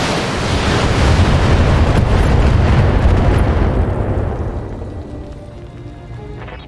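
A destroyed enemy vehicle explodes in Battletech with a loud, roaring blast that sustains as a heavy rumbling burst for several seconds before fading into a softer crackling tail.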